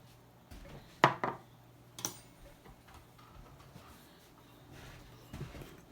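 A spoon stirring cornstarch in a small bowl for homemade natural deodorant: faint, sparse clicks and scrapes against the bowl, a few sharper taps spaced over several seconds in a quiet room.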